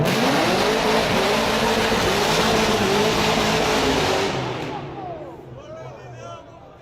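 A supercharged V8 in a 1965 Ford Mustang fastback revs hard, a loud, rough roar with rising pitch that holds for several seconds before fading away as the car recedes into the distance.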